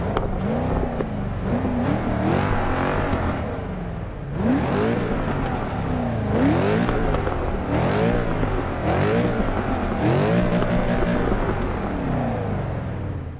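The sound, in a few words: Mercedes C63 AMG S V8 engine in Forza 6 video game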